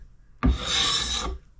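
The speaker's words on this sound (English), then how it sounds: "I mean, I'm gonna sand it good and" A single rasping stroke of sandpaper across a wooden axe handle, about a second long, close and clear against a quiet background.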